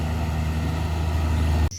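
A Fuso truck straining with its engine: a loud, close, steady low diesel rumble that holds constant, then cuts off abruptly at the end.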